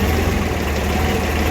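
A vehicle engine idles with a steady, loud, low rumble that holds even and unbroken throughout, with no voices over it.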